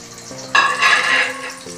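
Chopped onions sizzling in an oil-filled pan while cooking a chicken and spinach curry, with a quiet crackle that swells into a louder, steady hiss of frying partway through, heard alone without talk.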